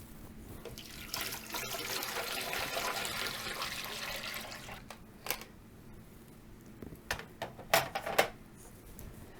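Water pours steadily into a hydroponics unit for several seconds, a close rushing splash that then stops, followed by scattered drips and light plastic knocks.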